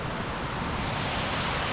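A loud waterfall rushes nearby beside a wild camp spot on the West Highland Way, a steady, dense roar of falling water that fills the whole moment without any speech.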